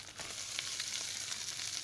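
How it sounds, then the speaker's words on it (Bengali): An egg frying in a pan, a faint, steady sizzle with soft crackles throughout. "মাহির জন্য একটা ডিম সুন্দর করে ভেজে দেখতে পাচ্ছেন"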